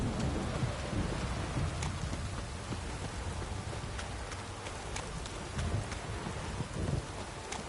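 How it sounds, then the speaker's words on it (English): Heavy rain pouring down in The Witcher 3, a dense steady hiss of a downpour with scattered drop ticks, and faint hoof clops underneath. "This downpour's a bastard,"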